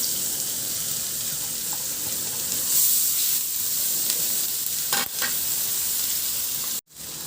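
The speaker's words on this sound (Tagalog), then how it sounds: "Tunawin lang at igisa ko na yung bawang." Minced garlic sautéing in melted butter in a pan gives a steady, close, hissing sizzle, with soft stirring scrapes and a brief break near the end.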